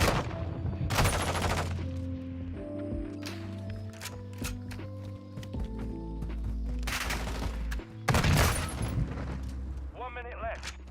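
Shotgun slugs fire in Call of Duty MW2, sounding as several sharp, loud bursts at irregular intervals, with game sounds and music in between.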